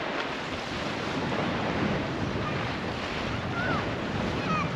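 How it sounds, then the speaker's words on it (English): Steady wind buffeting the microphone on a coastline near a jetty at a caravan park, a constant broadband rush with faint surf beneath and no clear voices. "A little bit windy, but you get that near the coast wherever you are"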